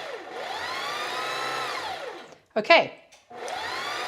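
A sewing machine winds thread onto its bobbin in a steady high motor whir that ramps up and down, pauses briefly while someone speaks a word, then starts again.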